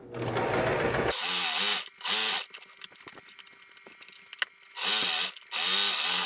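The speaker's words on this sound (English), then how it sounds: "Lower your presser foot back down and just sew as normal." A sewing machine stitches a fabric waist apron in several short bursts of loud, buzzy motor whirring, separated by quiet pauses with faint handling clicks, preceded by a brief busier noisy passage.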